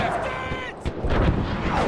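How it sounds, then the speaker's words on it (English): Heavy gunfire and artillery in the Mount & Blade Warband Parabellum mod: dense, overlapping booms and shots crack through a busy battlefield din, with voices talking over the fighting. "Some heavy fire there."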